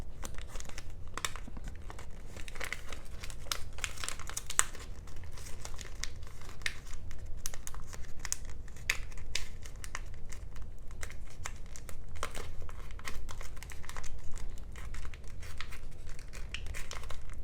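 Sheet of paper being creased and folded into an origami frog, steady close crinkling and crisp rustling with small sharp creases throughout, no voices.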